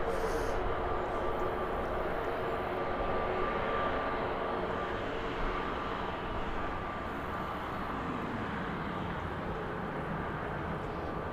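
An airplane departs Birmingham airport bound for Cork, a steady, moderately loud engine roar with a broad rumble and a faint tonal whine that holds evenly throughout without any voices.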